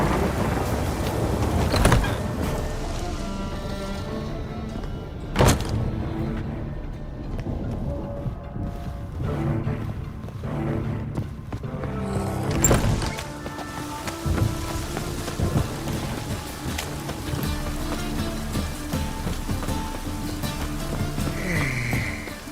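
Steady rain falls in The Witcher 3: Wild Hunt, with rolling thunder cracks around the 2, 5.5 and 13 second marks, all over a soft musical backdrop and with no voices.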